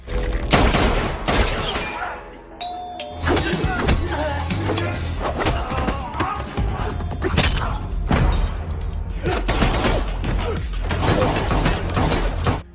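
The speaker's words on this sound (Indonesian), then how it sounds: "John dan Akira yang sedang baku tembak" Gunfire in a shootout from the film John Wick 4, with dense bursts and heavy thuds running continuously and loud over a busy action score, interspersed with mechanical clatter.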